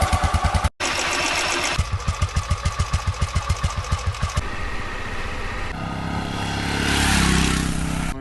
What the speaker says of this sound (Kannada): exhaust note